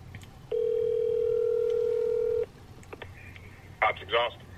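A telephone rings out on a call to a muffler shop: one steady two-second ring tone heard through the handset, then low room noise and a brief voice.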